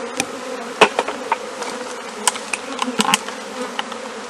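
A swarm of honey bees clustered on a car bumper buzzes in a dense, steady drone close by, with scattered sharper buzzes as individual bees fly near, and nobody talking.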